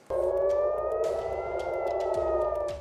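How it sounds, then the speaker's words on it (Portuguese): A loud wailing air raid siren in Israel holds a long, steady rising-and-falling tone for a few seconds, with faint background clatter and no speech. "O som das sirenes alertava os israelenses sobre o perigo que vinha do alto."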